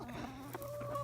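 Hens cluck in a backyard chicken coop, a short close burst of soft throaty clucks and a brief rising note, fairly quiet overall.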